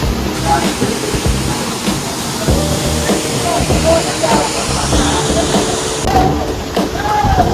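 Weisohphoh Falls at Sohra rushes as a steady, loud broadband roar that fills the whole stretch, with people talking and a few brief higher sounds over it.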